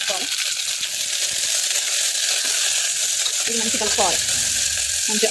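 Onion, coriander and curry leaves frying in oil for tomato rice, a loud, dense, close sizzle that runs unbroken, with brief stirring scrapes and a little speech near the end.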